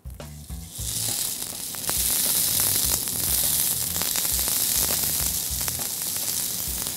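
Burger patty sizzling in hot olive oil for a cheese-stuffed Juicy Lucy burger, a steady loud frying hiss that swells once the meat hits the pan and holds continuously with faint crackles, no talking.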